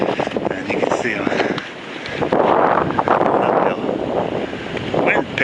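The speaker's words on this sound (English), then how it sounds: "Wind picked up a bit up here too." Wind gusting over a snowy Appalachian Trail mountain path in March, buffeting the microphone in loud, rough surges while someone talks over it.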